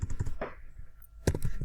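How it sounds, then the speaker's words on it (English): Rapid keystrokes on a computer keyboard while coding PHP, a close burst of clicks, a pause, then another quick cluster of taps, heard alone without talk. "I am typing here."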